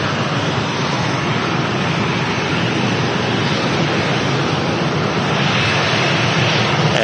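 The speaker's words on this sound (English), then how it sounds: "Austrian Airlines heading back to Vienna is now lined up on 23 right," An Austrian Airlines airliner lined up on runway 23 right at Manchester Airport gives off a loud, steady broadband jet roar, constant and close throughout.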